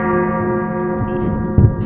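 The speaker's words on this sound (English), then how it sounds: "Bring out the church bells!" Sustained, ringing church bell tones hum steadily throughout, with a dull thump near the end.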